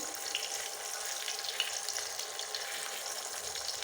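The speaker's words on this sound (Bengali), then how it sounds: "ভালো করে ভেজে নেবেন। ভেজে নিচ্ছি।" Hilsa fish tail frying in oil in a pan for a Mawa Ghat style mash, a loud, steady hiss and crackle of sizzling fat, close and continuous with small pops, no speech.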